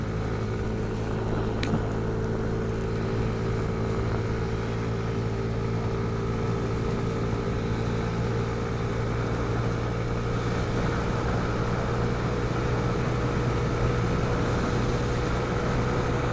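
A scooter engine drones steadily while riding along a stretch of bumpy road in Wales, a continuous close hum with wind rush and no talk.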